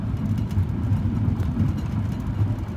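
Steady low road rumble from inside a car moving on Indianapolis's I-465 in rain, a constant droning hum with no voices.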